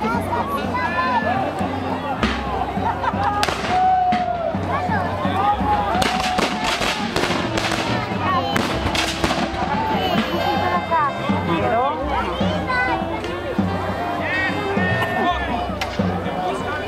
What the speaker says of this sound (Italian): Ancora colpi di artiglieria e di nuovo l'avanzata